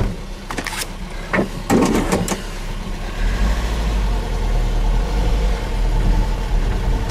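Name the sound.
Mazda B2200 pickup engine idling high, running rich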